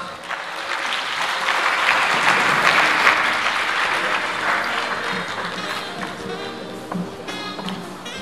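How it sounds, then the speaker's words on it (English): A lecture audience gives a big round of applause at an Africa Day lecture, the clapping swelling to a loud peak and then thinning out, with a few scattered claps and faint voices near the end. "A bigger round of applause."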